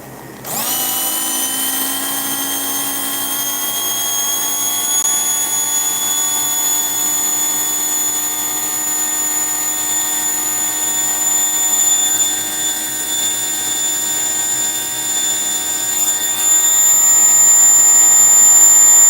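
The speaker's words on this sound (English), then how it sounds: "let's see what this thing does on the dyno." A slot car motor spinning up on a dyno, a sharp start then a steady high-pitched electric whine with layered tones that climbs slightly and gets louder near the end, no talk.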